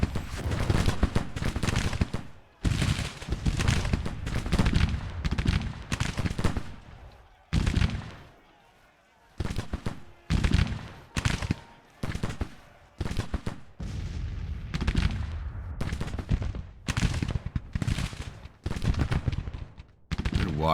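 Continuous musket and rifle volleys crackle through a Civil War battle in Grand Tactician: The Civil War, dense rolling bursts with brief lulls, loud throughout and punctuated by heavier booming shots.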